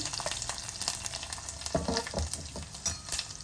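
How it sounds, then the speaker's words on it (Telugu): Cumin seeds and garlic sizzle in hot oil with mustard seeds for a Hyderabadi kichidi kheema khatta. The frying crackles close and steady, with a few stirring scrapes. "కొద్దిగా జీలకర్ర వెల్లుల్లిపాయలు వెల్లుల్లిపాయలు కొద్దిగా వేగాలి"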